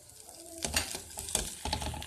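Spoon scraping and clattering against a frying pan while a spiced masala mixture with fresh coriander is stirred, a few sharp scrapes over a soft, steady sizzle, close and fairly quiet.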